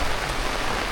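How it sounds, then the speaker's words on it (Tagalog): Heavy rain falls during a storm, a dense, steady hiss of drops pattering on surfaces, loud and close with no pauses. "Ayun po bumabagyo, ay umuulan"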